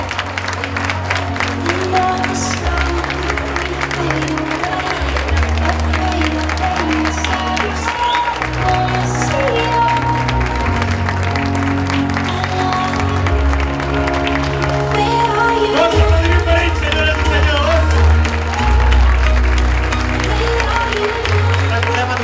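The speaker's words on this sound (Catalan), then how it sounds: "Fort aplaudiment per ells." An audience at an anniversary awards event applauds the prize winners, sustained clapping running under loud music with a strong beat, with some cheering mixed in throughout.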